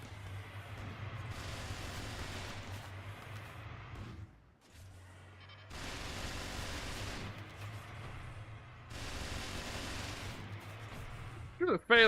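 Phalanx turrets firing in RimWorld, several long droning bursts of rapid automatic fire separated by short pauses, heard under a person talking.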